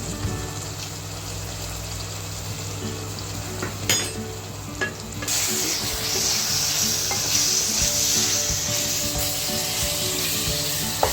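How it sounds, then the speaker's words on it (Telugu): Chicken fries with ground coriander, pepper and salt over a low flame while being stirred. A steady sizzle runs throughout, with a few sharp utensil clanks partway through before the frying hiss grows louder. "మసాలాలన్నీ గట్టిగా మొత్తం మిక్స్ అయ్యేటట్టు కలపండి."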